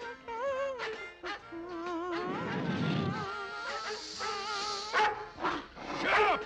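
A cartoon dog barks again and again in a Hoot Kloot western cartoon, loud and close, mixed with lively cartoon music and sound effects.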